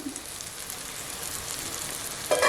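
Banana flower pickle masala frying in oil in a pan, giving a steady close sizzle and crackle, with a louder bubbling pop near the end, no voices.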